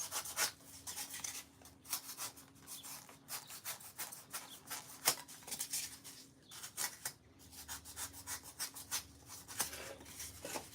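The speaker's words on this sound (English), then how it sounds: "So whittle this down." A knife whittles down a piece of wood, quiet close scraping strokes repeated in an uneven rhythm with brief pauses between cuts.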